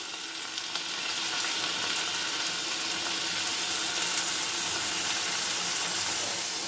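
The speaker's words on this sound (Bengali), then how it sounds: "এটা একটু নাড়িয়ে নিই" Crushed ginger, green chili and sour yogurt for a biryani hissing in a hot pan, an even, unbroken sizzle held close and fairly loud throughout with faint stirring underneath.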